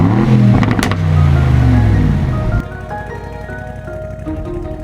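A new Aston Martin Vantage engine revs hard, sweeping up and down in loud, close roars before cutting to a quieter, steady idle burble for the remaining seconds.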